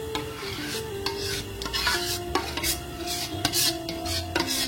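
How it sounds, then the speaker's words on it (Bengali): A spoon stirs and mixes the ingredients for a sweet chilli tomato sauce in a pot, with close, repeated scraping and light clinks against the cookware, fairly quiet and steady. "তো আমি এটার সাথে এখন একটা একটা করে সব মিলিয়ে দিচ্ছি।"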